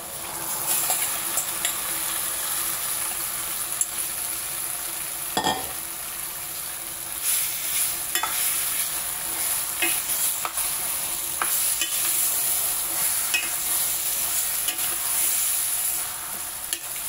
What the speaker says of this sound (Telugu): మ్యాగ్నేట్ చేసుకున్న చికెన్ వేసేద్దామండి. దీంట్లో కొంచెం కారం, నూనె, ఉప్పు వేసి కలిపి ఉంచానండి.